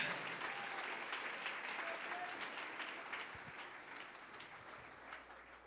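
Congregation applause at a church service, a steady wash of clapping held at a moderate, fairly distant level for several seconds.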